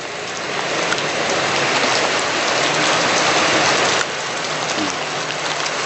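Rain pours down in a steady, dense hiss on surrounding surfaces, heavier through the middle and easing slightly for the last couple of seconds.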